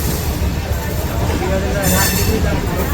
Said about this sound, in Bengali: ওরা পাশ দিয়ে একটা লোকাল ট্রেন যাচ্ছে